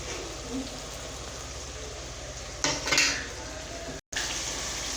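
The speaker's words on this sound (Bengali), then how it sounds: "টক দইটা দিয়ে ভালো করে মিশিয়ে নেব।" Sour yogurt is stirred into a pan over a very low gas flame: a steady soft hiss with a brief cluster of scraping, clinking stirs near the middle, then a short gap.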